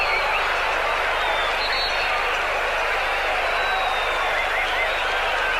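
Scattered applause from a football stadium crowd at the 1993 Copa América match between Brazil and Paraguay, steady and broad throughout, heard under continuous commentary.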